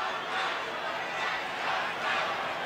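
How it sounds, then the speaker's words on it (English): Crowd at a baseball stadium shouting in swelling waves during a game against Cincinnati, a broad steady roar that rises and falls twice, loud and continuous throughout. "Crowd tries to help the umpire."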